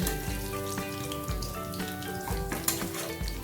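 Katla fish pieces fry in hot oil with a steady, close sizzle and scattered crackling pops, continuous throughout without talk.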